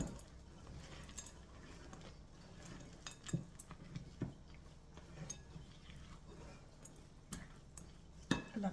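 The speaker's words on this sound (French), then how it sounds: "Je continue le mélange avec les spatules" Spatulas mixing cookie dough with vanilla in a bowl, faint soft scraping and stirring with occasional light clinks against the bowl, quiet and close.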